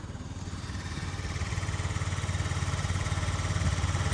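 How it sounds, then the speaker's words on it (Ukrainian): A Yamaha BWS 49 four-stroke fuel-injected scooter engine idling steadily with a low, even putter that grows slightly louder, running smoothly on its own without speech. "як тихенько гарно працює двигун"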